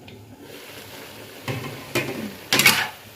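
Cucumber stir-fried with egg and shrimp over high heat in a pan, giving a soft steady sizzle punctuated by three short scraping stirs that grow louder, the last the strongest.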